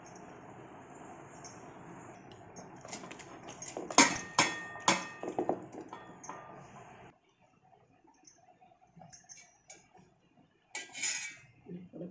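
A spoon scrapes and clanks in a pot while chicken is mixed with turmeric and chilli powder, a few sharp metallic knocks bunched in the middle, then quieter scattered clinks.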